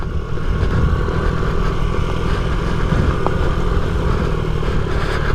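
A 1993 Honda Z50R mini motorbike climbs a hill on a trail in third gear, its small engine buzzing loud and close in a steady, strained drone with light mechanical clatter, no talking.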